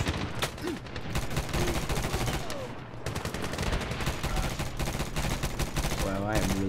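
Rapid bursts of M4 carbine gunfire from the Medal of Honor video game crackle densely and loudly throughout, layered with other game noise and overlapping shots.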